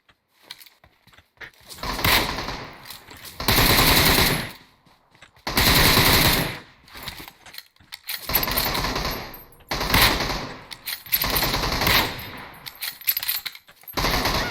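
Gunfire in a battle-royale shooter game rattles in repeated loud automatic bursts, sustained sprays broken by short pauses, with clattering mechanical weapon sounds between volleys and no voices over it.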